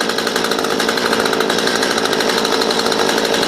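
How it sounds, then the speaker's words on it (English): A Stihl MS 192 TC chainsaw running at a steady, loud, close idle during carburetor adjustment, a continuous buzzing engine drone with no pause. "so now that it's running, I'm going to try and talk over the saw."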